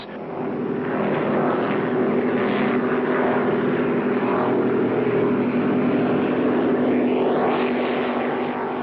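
Loud, steady roar of powerful racing powerboat engines at sea during the 1973 Cowes–Torquay–Cowes race, a continuous droning with shifting pitch and no voices.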